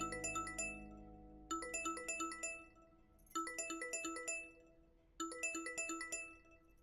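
A phone plays a chiming melodic ringtone for an incoming call, repeating the same short bright phrase four times with brief gaps between. It sounds fairly quiet and there is no talk.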